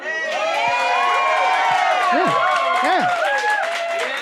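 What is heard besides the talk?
audience cheering and applauding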